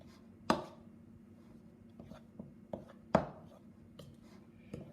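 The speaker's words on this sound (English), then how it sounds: "we're going to use a flat bladed knife and a cutting motion, just like this" A flat-bladed knife cuts through a soft dough mixture in a bowl, giving a few sharp, close taps and scrapes spaced irregularly, with quiet pauses between strokes.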